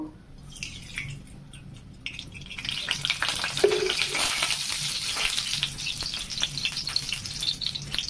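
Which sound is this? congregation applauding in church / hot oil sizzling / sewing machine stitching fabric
hot oil sizzling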